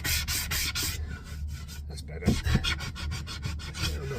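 A wooden GPO battery box has its edges rounded off by hand, with a quick series of close, rhythmic rasping rubbing strokes and short pauses between them.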